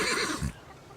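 A horse gives a short whinny, a quick bright burst that drops away after half a second to quiet.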